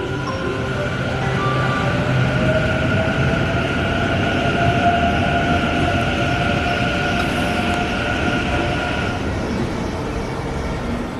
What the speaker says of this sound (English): Train's about to leave. I'm gonna film it leaving.